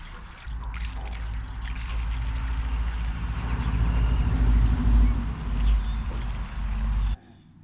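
Maple sap pours through a cheesecloth in a backyard in Ohio, a loud, steady liquid rush lasting several seconds before stopping abruptly.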